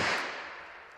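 One sharp report from a .32 caliber break-barrel air rifle, caught at its loud peak and fading out over about a second, with no other sounds.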